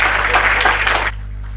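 A hall audience applauds in a dense, loud wash of overlapping claps that runs for about a second and then cuts off abruptly, leaving low room hum.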